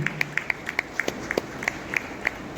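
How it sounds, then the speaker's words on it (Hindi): Audience clapping to welcome an honoree at a Hindi poetry award ceremony in Mumbai, with sparse, irregular claps that sound like a small crowd, close and moderately loud. "तो एक बार तालियों से इनका भी स्वागत करिए आप लोग।"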